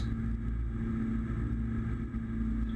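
A Diamond DA42 Twinstar twin-engine aircraft has its power pulled back to 90% for the climb out, heard from the cabin as a steady, loud, tonal engine drone holding an even level for a few seconds.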